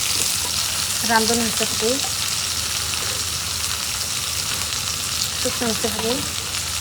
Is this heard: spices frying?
yes